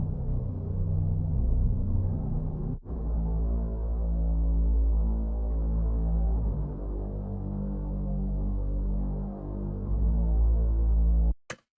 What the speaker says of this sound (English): Then we have the synth bass